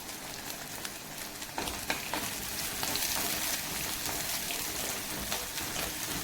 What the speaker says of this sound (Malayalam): പത്ത് ചെറിയ ഉള്ളി ചെറുതായിട്ട് അരിഞ്ഞു വെച്ച് ഇട്ട് കൊടുക്കാം.